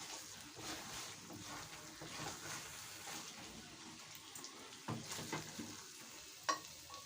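Ginger chicken sizzles in oil in a pan, with stirring and scraping as it is dished out; a continuous soft frying hiss is broken by a few sharp metallic clinks of a utensil near the end.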